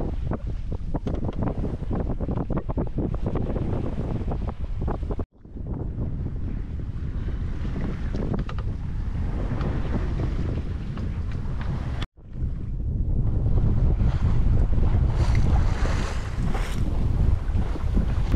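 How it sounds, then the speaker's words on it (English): Strong wind buffets a microphone aboard a sailboat crossing the open ocean, a constant loud roar with rushing water and waves beneath and two very brief dropouts, with no voices. "The wind has actually improved quite a bit throughout the day, which is good."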